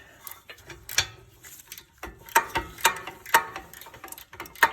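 A ratchet tightens bolts during a BC Racing coilover install on an Acura RSX, giving irregular sharp metallic clicks and short ratcheting bursts, close and moderately loud, with no talking.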